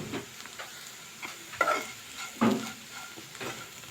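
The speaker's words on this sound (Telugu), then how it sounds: "ఇలా మళ్ళీ ఒక ఫైవ్ మినిట్స్ ఫ్రై చేసుకోవాలి" Aloo (potatoes) frying in a pan gives a soft, close sizzle, with a few stirring scrapes and clinks breaking in.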